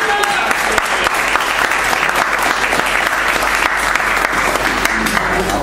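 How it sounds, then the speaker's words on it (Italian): Dense, continuous applause from a crowd celebrating a podium finisher at a FunKart championship kart race in Vignate, steady and loud throughout without pause. "Applausi."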